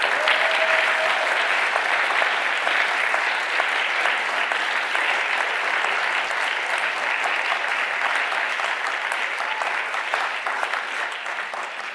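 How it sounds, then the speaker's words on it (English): Sustained audience applause for five finalists at a forum event, dense steady clapping from a crowd that holds evenly throughout and tapers only slightly at the end. "Let's give our 5 finalists another round of applause."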